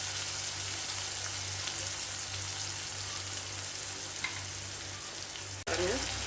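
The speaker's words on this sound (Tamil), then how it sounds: "வெங்காயம் பூண்டு நல்லா வதங்கிடுச்சு." Onions and garlic fry with salt in a pan for a cluster beans dish, giving a continuous close sizzle with light stirring scrapes, a low steady hum underneath, and a brief clatter near the end.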